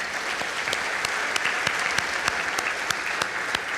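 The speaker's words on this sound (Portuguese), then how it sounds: "Você pode aplaudir a palavra do Senhor" Church congregation clapping after a sermon prayer, a loud, continuous patter of many hands with a few sharper individual claps standing out.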